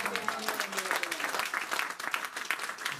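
A church congregation applauding, a dense continuous patter of many hands clapping with cheering voices mixed in, fairly loud throughout.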